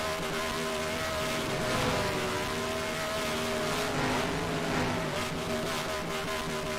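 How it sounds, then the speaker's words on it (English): A late model race car does a burnout in a sim racing game at Disney World Speedway, its engine a sustained, loud, droning roar that swells slightly and holds steady throughout, with no talking. "Everyone loves a good burnout."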